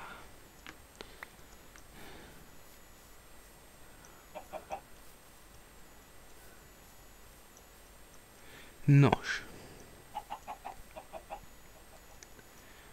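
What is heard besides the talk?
chickens clucking in Minecraft video game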